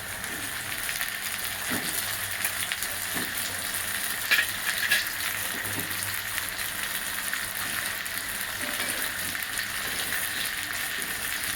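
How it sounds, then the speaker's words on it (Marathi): Brinjals sizzle with onion in hot oil for stuffed masala brinjal, a dense, continuous frying hiss that stays even throughout, with a few faint stirring knocks underneath. "वांगी पण तेलामध्ये कांद्याबरोबर चांगली तेलात भाजली जाते।"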